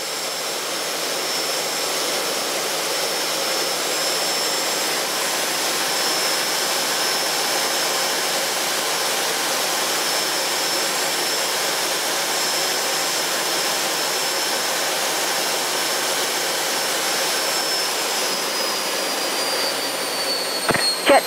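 A Jet Provost JP5 jet engine roars steadily as the aircraft accelerates toward 200 knots after takeoff with flaps and undercarriage up; the loud, even whine continues without a break and without talk.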